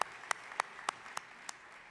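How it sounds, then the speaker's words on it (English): Sparse, scattered claps from a crowd in an assembly hall, a handful of isolated sharp hand claps spaced irregularly rather than full sustained applause, heard at moderate distance with no talking. "So this applause goes to you."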